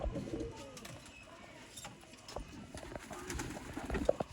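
A female pigeon coos quietly in a kabootar bazi loft, with soft repeated low coos and scattered scuffling and clicks nearby, faint against the background.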